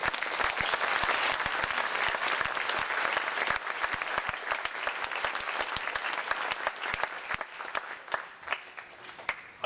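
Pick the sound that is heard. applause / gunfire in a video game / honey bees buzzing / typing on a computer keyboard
applause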